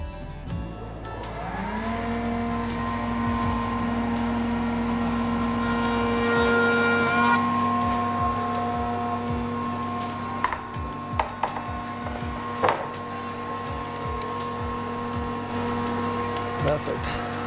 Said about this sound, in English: Okay, last setup with the router spindle.